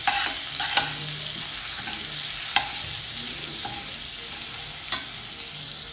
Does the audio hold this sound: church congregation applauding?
no